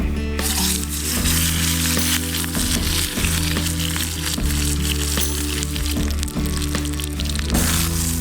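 Steak and broccolini fry on a camp stove beside a creek, a steady loud sizzle with crackling spatter and occasional stirring clatter, heard close with no voices.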